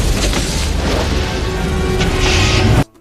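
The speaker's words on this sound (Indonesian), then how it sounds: "John Kruger memasang jebakan gas LPG yang membuat rumah itu meledak seketika" A house blows apart from a rigged LPG gas trap in an action film, a loud rumbling blast and crackling debris roaring continuously for nearly three seconds before cutting off abruptly.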